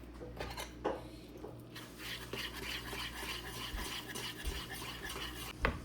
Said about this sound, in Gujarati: ચણાના લોટનું બેટર બનાવી દઈએ પહેલાં.